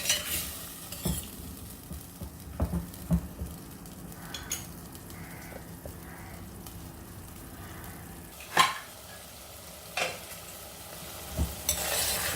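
Peas and potatoes frying in a pan with onion and tomato, a soft steady sizzle broken by sharp scraping knocks of a spoon stirring against the pan, irregular and close.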